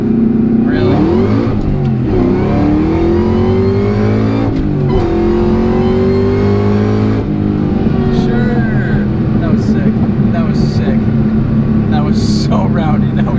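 A Cobra car at a drag race accelerates hard, its engine note climbing through rising sweeps with shifts in between, loud and close throughout, while people talk over the roar.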